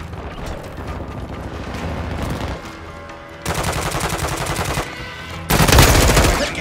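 Rapid automatic weapon fire in Call of Duty Mobile, with sustained close bursts of rattling shots, the loudest near the end, and mechanical clatter and quieter gaps between them.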